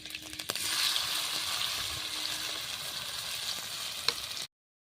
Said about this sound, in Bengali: সেদ্ধ করে রাখা যে আলু যে আমি কেটে রেখেছিলাম চৌকো করে দিয়ে দিচ্ছি